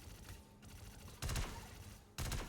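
Two rapid bursts of gunfire, loud and close, separated by a quieter stretch of low background rumble, in the video game Star Citizen Alpha 4.3.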